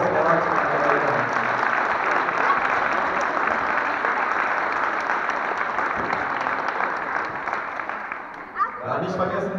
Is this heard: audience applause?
yes